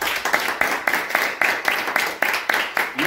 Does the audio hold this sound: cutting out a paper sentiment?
no